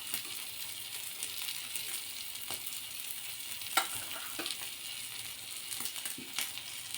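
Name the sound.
tomato and spices frying in pan for egg dish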